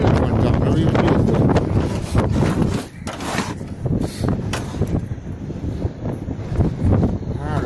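Outdoor wind gusts buffet the microphone beside a car with its hood raised, producing loud, uneven rumbling bursts that rise and fall, with occasional voices mixed in.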